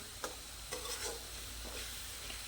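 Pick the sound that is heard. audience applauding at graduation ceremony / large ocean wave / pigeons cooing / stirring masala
stirring masala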